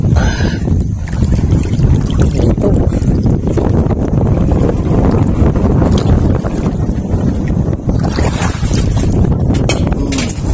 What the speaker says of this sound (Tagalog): Malakas lang talagang hangin.